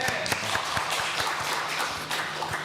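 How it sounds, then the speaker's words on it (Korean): A church congregation at Yangju Jeonwon Church claps together during a Sunday service, a dense, steady patter of many hands filling the room at moderate loudness for the whole stretch, with a few sharper individual claps standing out. "박수 하겠습니다"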